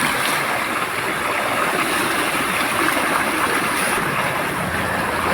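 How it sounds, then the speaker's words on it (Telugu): Steady rushing water flows continuously and fairly loud throughout, a broadband wash with no talk, consistent with a stream running outdoors. "చూడండి అక్కడ ఎంత బాగా వస్తుందో వాటర్."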